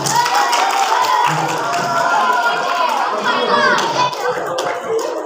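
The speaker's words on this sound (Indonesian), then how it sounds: "Tepuk tangan dulu untuk temannya." Junior high school students clapping for a classmate during a new year religious talk, a lively burst of hand claps close by, with children's voices and chatter mixed in.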